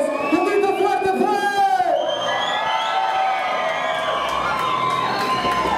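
A hip hop event crowd in Mexico shouts, whoops and cheers loudly, with a drawn-out yell at first, then a broad wash of crowd noise that carries on steadily.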